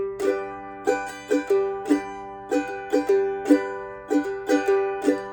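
Bright mandolin strums ring out in a quick, steady pattern, each stroke crisp with sustained notes between, close and clear with no voices.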